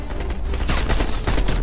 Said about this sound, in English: Maybe not stand in the middle of the freaking gunfire.